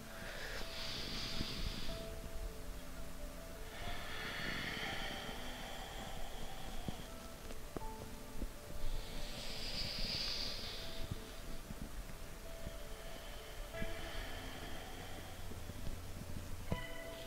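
Slow, deep breaths close to the ear, long airy inhales and exhales repeating in an unhurried rhythm over a faint background hum.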